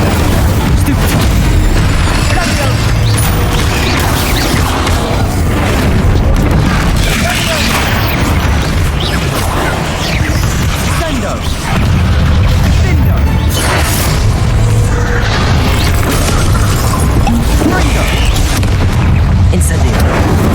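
Incendio fire spell in the Hogwarts Legacy video game, a dense, loud, continuous roaring burst of flames and magical impacts mixed with battle noise for the whole stretch.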